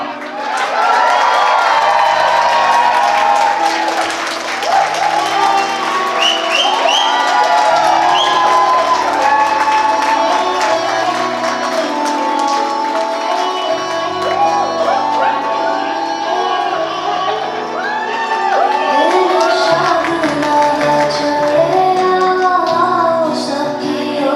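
A wedding crowd cheers and whoops for the bride's parents with shouts and scattered clapping, loud and lively throughout, while music plays underneath.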